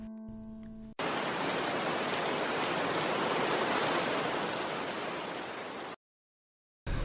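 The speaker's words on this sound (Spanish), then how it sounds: "el rumor de la lluvia que cae sobre Cuilapa" Steady heavy rain pours down on Cuilapa, Guatemala, a dense continuous hiss that holds loud for about five seconds before cutting off.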